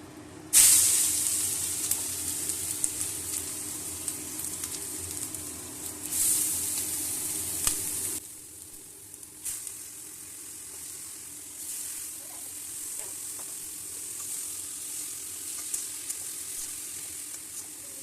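Grated radish hits hot oil seasoned with dried red chilli and nigella seeds in a kadai, bursting into a loud sizzling hiss that flares again, then settles into steady frying crackle with occasional stirring clicks.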